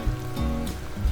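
Cauliflower pieces deep-frying in oil over medium-low heat for cauliflower 65, a steady close hiss and crackle without speech.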